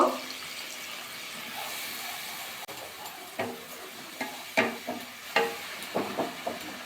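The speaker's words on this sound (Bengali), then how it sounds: "অল্প জল দিয়ে দেবো দিয়ে ভালো করে মশলাটা কষিয়ে নেব" Masala with tomato paste and a little water being sautéed in a pan for a cauliflower and peas curry; a soft sizzle underlies irregular stirring scrapes that grow more frequent toward the end.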